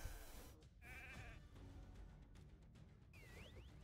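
Sheep bleats from the mobile game Raid: Shadow Legends, two short wavering cries heard faintly over a busy bed of battle effects and game noise, with no talk.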